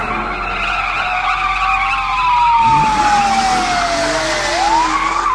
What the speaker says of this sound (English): It's a Russian police car.